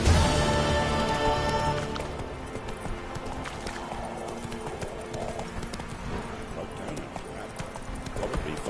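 Horse hooves clip-clop rhythmically at a steady gallop in The Witcher 3, mid-level and continuous, with a brief voice at the start and game music fading out beneath.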